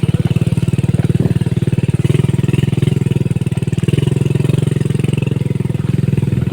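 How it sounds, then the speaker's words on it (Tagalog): A motorcycle engine runs steadily nearby on a dirt road, its loud, rapid chugging firing pulse holding constant throughout with no voices over it. "Buti na lang at malakas tong motor na ating service."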